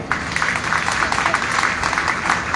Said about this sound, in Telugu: చప్పట్లు కొట్టడానికి మొహమాటం పడకండమ్మా